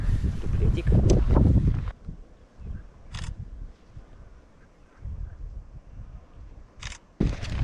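A camera shutter clicks twice, brief and crisp, after a burst of noisy handling up close, with quieter rustling outdoors in between and no clear talk.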